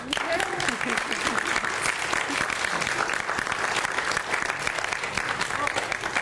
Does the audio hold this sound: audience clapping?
yes